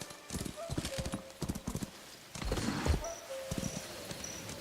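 Rhythmic clip-clop of a horse galloping in a video game, steady hoofbeats running through most of the stretch with a brief whinny and a person talking over it.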